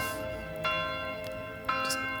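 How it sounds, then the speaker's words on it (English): Church bell of a stave church in the Manor Lords video game, struck twice about a second apart, each stroke blooming into a sustained ringing hum over a steady background drone. "Sound the bell."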